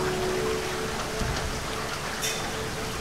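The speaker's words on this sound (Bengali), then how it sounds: "বৃষ্টি তো কিছুক্ষণের মধ্যেই বন্ধ হয়ে যাবে।" Steady rain hisses down in an even, dense wash, with scattered heavier drops and a dull thump partway through; nobody speaks.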